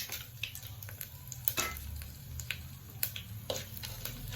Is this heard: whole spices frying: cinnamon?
yes